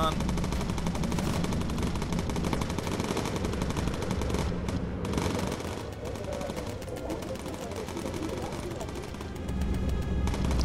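Dense, continuous machine gun fire from bomber gunners in the World War II game Bomber Crew, loud and sustained across the whole stretch with heavy rattling bursts and booms, one brief dip in the middle.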